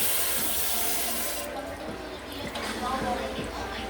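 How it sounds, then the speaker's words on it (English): Water is poured from a cup into a cooking pot of coconut milk for Jamaican coconut rice, a steady splashing stream that tapers into softer trickles and drips, with a faint voice in the background. "so we're gonna get a cup of water in the pot"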